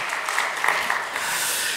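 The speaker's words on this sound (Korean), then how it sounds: "우리 환영과 축복의 박수 하겠습니다" A church congregation at a Korean Sunday worship service claps in welcome and blessing, a continuous patter of applause with a few sharper claps standing out, fairly close and steady throughout.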